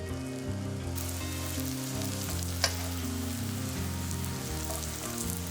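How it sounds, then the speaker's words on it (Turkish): Leek patties coated in breadcrumbs sizzle and crackle steadily in hot oil in a frying pan, a continuous close frying hiss with one brief sharp clink midway. "Önce bir miktar yağımızı, 5-6 kaşık yağımızı tavamıza koyup köftelerimizi kızartacağız."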